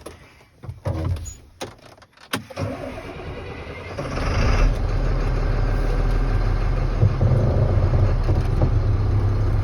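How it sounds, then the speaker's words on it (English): A truck engine cranks with a few sputtering catches amid clunks, then fires up at about four seconds and settles into a steady, close, rumbling idle. "It's safe to start the truck."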